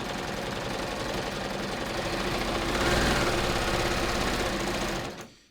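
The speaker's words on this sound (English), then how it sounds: "So I'm just going to put my fabric under my needles to start, and I'm just going to start stitching." Baby Lock Ovation serger running a 4-thread safety stitch through cotton fabric, a loud steady rapid mechanical whir that holds for several seconds and then winds down, with no voices.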